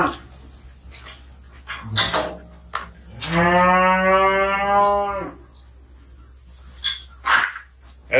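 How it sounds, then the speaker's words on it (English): A cow in a barn pen moos once, loud and close, a drawn-out low call of about two seconds, surrounded by scattered knocks, insect chirps and a steady background hum. "As you can see, the cattle flow pretty well to the back of our barn"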